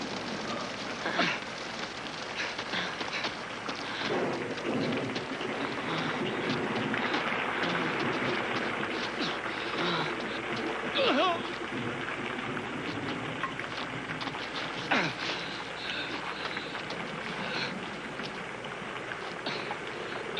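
Steady rain pours down in a dense, hissing wash, with a few louder thumps and splashes; no distinct thunder stands out.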